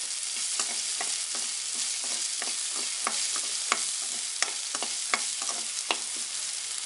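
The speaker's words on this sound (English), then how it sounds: "When onion started frying, we can add the salt to cook the onion very fast." Chopped onion frying in a pan for a veg burger, a continuous bright sizzle with frequent scraping stirs, close up and steady, no voices.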